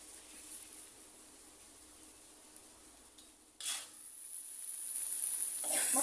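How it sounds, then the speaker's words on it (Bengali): Spices with cumin and green chillies sauté in a pan with added water, a faint hiss and sizzle with a brief clatter and rising frying noise toward the end. "এখন পানি দিয়ে মশলাগুলো ভালোভাবে কষাই নিব।"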